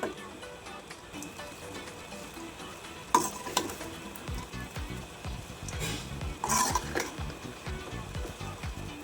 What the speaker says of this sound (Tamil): இந்த பன்னீரை போட்டு கலந்துடலாம்